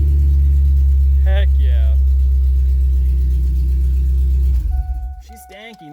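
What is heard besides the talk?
Ford 6.0 Powerstroke diesel engine running, dropping a cylinder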